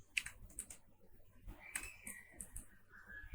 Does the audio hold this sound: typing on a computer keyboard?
yes